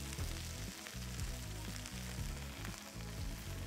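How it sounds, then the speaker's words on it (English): Greens cook in a pan with turnips until they begin to wilt, giving a constant soft sizzle that stays faint and even, with a low background hum beneath it. "Add in those greens. We're just gonna cook them until they just begin to wilt."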